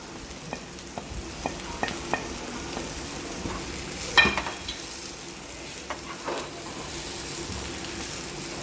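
Spiced masala with chilli powder, garam masala and salt being stirred and fried in a pan for Kerala chicken chatti pathiri: a steady soft sizzle throughout, with irregular scraping stirs and one louder clatter midway, no talking.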